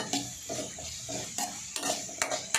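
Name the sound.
stir-frying vegetables for fried rice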